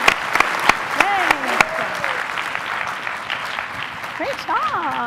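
Applause from a festival crowd for panelists at IZEAFest 2015, with sharp claps scattered over steady clapping while a voice speaks above it.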